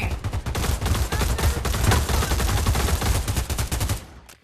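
Rapid bursts of video-game gunfire from a multiplayer shooter on the OG Containers map in an Oculus Quest 2 VR game, loud and nearly continuous like automatic fire, tapering off at the end.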